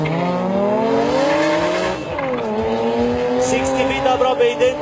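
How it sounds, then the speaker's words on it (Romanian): A BMW E46 M3 Turbo and an E30 2.5 Turbo race in a drag final, loud turbocharged engines revving and climbing through gear changes with a brief tire squeal, a commentator talking over them. "Haideți să urmărim finala de la S5, un M3 Turbo, un E46 Ciprian pe culoare din stânga"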